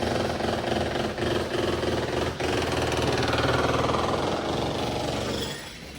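A generator engine runs loudly nearby with a steady chugging drone, then quiets slightly at the very end.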